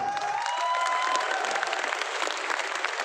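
A seminar audience gives steady, dense applause for about three seconds, a continuous wash of many hands clapping with no talking over it.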